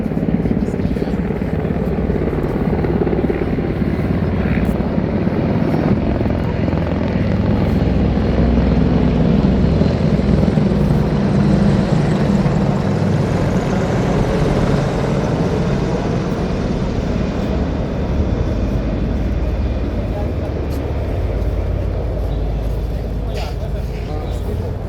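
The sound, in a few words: attack helicopters flying past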